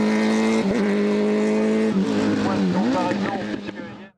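A Radical Prosport race car powered by a motorcycle engine at the Limonest hill climb, its high-revving engine screaming loud and close through rapid gear changes before cutting off abruptly.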